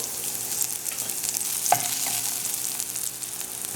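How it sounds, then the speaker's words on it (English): Onions frying in hot coconut oil in a pot over low heat for curried beef with cabbage, a steady close sizzle with a single scrape of stirring midway. "Once the oil is hot, I'm going to add in the onions."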